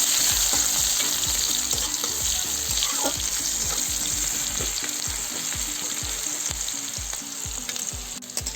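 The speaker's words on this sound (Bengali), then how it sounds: "পেজটা লাল লাল করে ভেজে নেবো" Chopped onion fries in hot oil with cumin seeds in a pan: a steady, close sizzle punctuated by regular rhythmic scrapes of stirring, with no talking.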